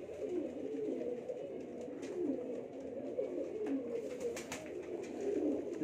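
Breeder pigeons on a rooftop, Teddy Ferozpuri Neel Dumbe birds, coo steadily in a low, continuous chorus, with faint outdoor noise around them.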